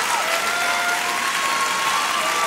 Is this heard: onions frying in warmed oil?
no